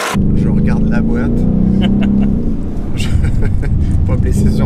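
A Ford Mustang GT with a naturally aspirated V8 launches from the brake on a track. The engine makes a loud, close, droning roar that holds steady, and someone talks over it.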